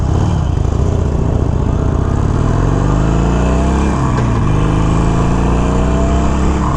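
A 2021 Harley-Davidson Iron 883 motorcycle with stock exhaust rides off, its engine loud and close with a continuous rumbling drone that rises in pitch as it accelerates.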